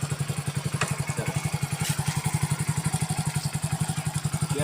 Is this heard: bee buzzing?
no